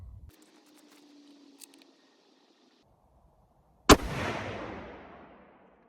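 One loud, close rifle shot from a 6.5x55 Swedish firing heavy bullets, a sharp crack followed by a rolling outdoor echo that fades over a couple of seconds after quiet handling noises.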